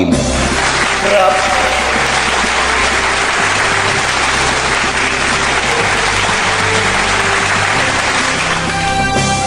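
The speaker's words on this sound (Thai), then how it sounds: "ขอเสียงปรบมือต้อนรับดังๆ ให้กับนักกีฬาทั้งสองท" Loud, steady applause at an outdoor football match, welcoming both teams in a Thai tournament final, mixed with crowd noise and a continuous hum.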